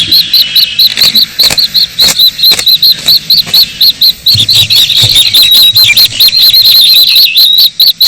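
Newly hatched ducklings only hours old peep in rapid, high repeated bursts, a busy chorus of close, loud calls with occasional soft knocks underneath.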